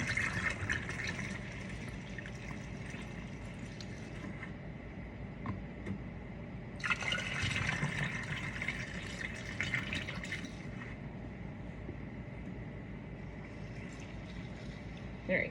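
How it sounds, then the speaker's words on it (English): Distilled water pours slowly into bottles to top them off, a steady liquid filling wash with faint drips, easing around the middle before resuming in a second pour and fading again. "we're just gonna top each of these bottles off with distilled water"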